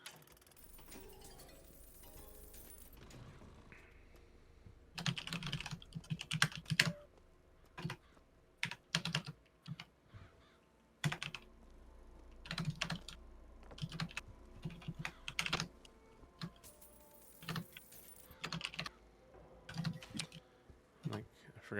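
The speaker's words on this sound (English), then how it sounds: "Sorry if the mechanical keyboard comes across the recording." Clacky mechanical keyboard typing in irregular bursts of rapid keystrokes, moderately close, continuing behind quiet gameplay sound.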